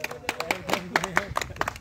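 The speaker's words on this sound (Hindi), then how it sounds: "एक बारी के लिए जोरदार तालियां बजा दो सब।" A crowd claps in quick, uneven bursts, with voices mixed in beneath the clapping.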